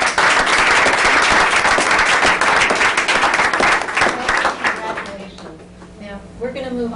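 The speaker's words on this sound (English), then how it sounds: "I just would like to give a big round of applause for all these adults that make the difference" Applause from an audience at a school board meeting, dense and loud clapping for about four seconds that then thins out and fades, with speech coming in at the end.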